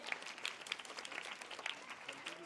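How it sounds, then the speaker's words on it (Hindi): Audience applause at a primary school award ceremony honouring students, faint scattered hand claps with uneven rhythm, distant and low in level, with some murmur beneath. "ताली बजाइए आप लोग।"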